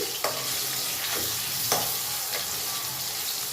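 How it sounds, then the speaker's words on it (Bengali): Potatoes frying in a pan with salt and turmeric, a moderate sizzle broken by a couple of sharp stirring knocks and scrapes, with no speech. "আলুটা এবার ভেজে নেব নুন হলুদ দিয়ে"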